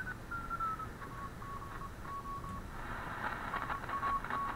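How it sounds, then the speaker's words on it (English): A Heathkit SW7800 digital general-coverage shortwave receiver sounds a steady Morse CW tone, sending a run of keyed beeps of varying length over a constant hiss of static, with no voices. "you can hear that's got a nice CW note to it"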